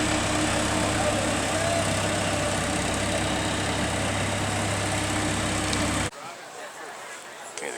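A construction crane's engine runs steadily at a building site, a loud continuous low drone with a faint hum that cuts off abruptly near the end, leaving quieter ambient noise.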